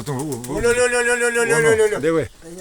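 Nikolaev breed pigeons coo close by in a rolling, throaty series of calls with short breaks between them, loud and clear against a quiet outdoor background.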